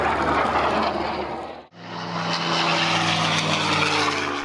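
A World War II propeller fighter roars past at an airshow mock battle, loud throughout with a brief dip in the middle before the engine note swells again, droning on as it passes.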